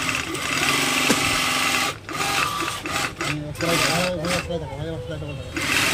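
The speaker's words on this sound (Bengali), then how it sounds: "দেখতে পাচ্ছ আমি সেলাই করছি" Sewing machine stitching leather gloves, a rapid mechanical whirring and clatter that stops briefly, then restarts in bursts alongside a person's voice.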